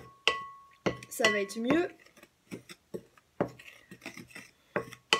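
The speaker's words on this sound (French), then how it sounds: "Je vais déjà les mélanger un petit peu." A spoon mixes homemade shampoo ingredients in a small container, making a series of sharp clinks and scraping taps, close up. Someone speaks briefly over the clatter.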